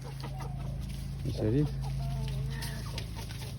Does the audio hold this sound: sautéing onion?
no